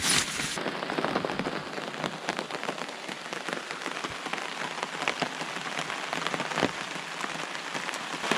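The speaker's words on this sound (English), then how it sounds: "It starts raining the moment I get out of that tent." Dense rain patters steadily on a taut tent surface close by, a constant crackling hiss of drops with occasional louder taps.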